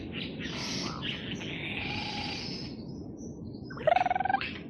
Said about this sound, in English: That's a kookaburra.